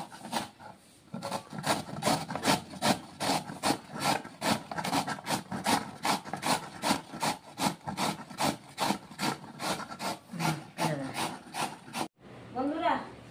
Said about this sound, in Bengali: এখন পেঁপেটা ঘষে নিব। এই যে এইভাবে করে ঘষে নেব।